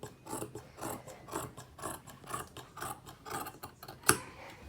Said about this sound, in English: So as I cut away the excess fabric here, so I'm going to go ahead and cut this off.